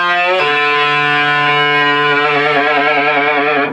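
A distorted electric guitar plays part of a solo, a loud sustained bent note that shifts pitch, then wavers with whammy-bar vibrato, alone for under four seconds.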